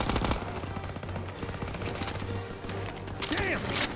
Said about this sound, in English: MG's on the stairs!